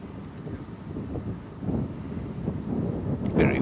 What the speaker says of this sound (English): Very windy and cloudy